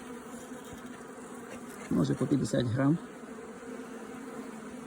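Honeybees in a mini nucleus hive hum softly in the background while a person speaks briefly close by in Ukrainian, the buzzing steady and low under the voice.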